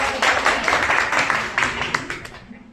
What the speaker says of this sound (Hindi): तो इसके लिए बहुत जोरदार तालियां